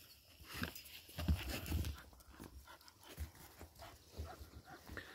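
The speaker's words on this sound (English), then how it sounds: "we're transferring the pups inside" Puppies are carried from outdoors into a homestead building. Soft, close panting, small whimpers and shuffling handling noises come through, with no clear talk.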